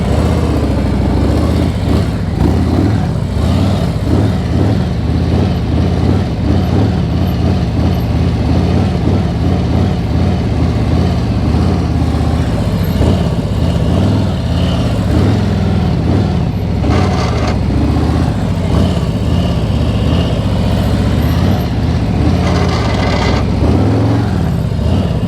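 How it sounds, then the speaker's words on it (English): A motorcycle rides in circles during a slow-speed riding drill, its engine running steadily with a loud, continuous rumble and slight swells in revs, with heavy wind buffeting throughout. "So I'm going to start with this far leg. I'm going to do a circle and a half."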